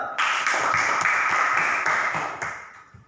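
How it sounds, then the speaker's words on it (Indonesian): Fifth-grade students in a classroom clap their hands in a few sharp, ringing bursts with short gaps, close and fairly loud, fading out near the end. "Semua tuntas, tepuk tangan dulu."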